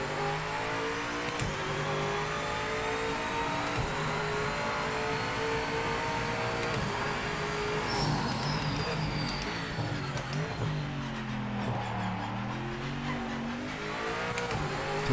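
A BMW GTE race car at Spa-Francorchamps in the Project Motor Racing video game, its engine droning loud and steady at high revs, with pitch sweeping down and back up through gear changes and braking.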